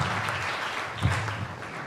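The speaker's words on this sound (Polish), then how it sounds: "Wielki brawa i bardzo dziękujemy." An audience claps to open a school recitation contest at the community culture center in Chmielno, a brief, moderately loud burst of many hands with a low thump partway through.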